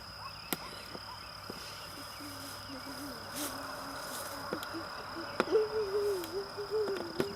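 Wasps buzz in an orchard, a faint droning hum that wavers in pitch and grows louder and closer toward the end, with a few sharp ticks and clicks around it and no talk.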